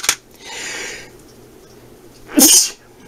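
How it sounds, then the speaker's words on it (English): A loud, close sneeze bursts out after a brief sharp breath and some quiet rustling earlier. "Me Sneezing."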